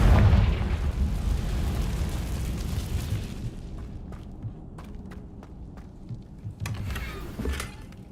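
A Confringo spell blast in the Hogwarts Legacy game: a loud booming burst at the start that fades into a rumbling tail, followed by scattered crackling pops.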